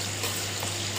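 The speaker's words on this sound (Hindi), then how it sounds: "कच्चू को फ्राई करूँगी, डीप फ्राई करूँगी।" Taro (arvi) pieces deep fry in refined oil with a steady, dense sizzle and crackle close by, one short unbroken stretch with no talking.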